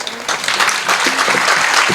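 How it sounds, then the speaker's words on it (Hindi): An audience at a Hindi kavi sammelan poetry recital claps in a dense burst of applause that continues steadily, fairly loud and close. "तालियां चाहता हूँ।"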